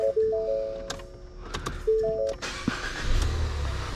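A 2016 Ford Fusion with a bad low-side fuel pressure sensor is switched on and off a couple of times: dashboard chimes and clicks come first, then the engine cranks and catches into a low, steady idle rumble near the end.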